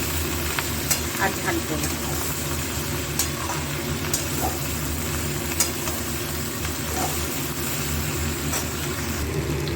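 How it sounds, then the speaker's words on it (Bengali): Onion greens, cauliflower, potato and onion frying in a pan over a medium-low gas flame, giving a steady continuous sizzle with occasional stirring clicks, while a person talks nearby. "একটু মিডিয়াম টু লো ফ্লেমে রেখে পুরোটা ভাজবো"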